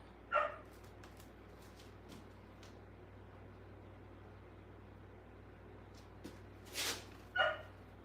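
A dog barks a few times in the distance, faint sharp yaps separated by long pauses over a low steady hum.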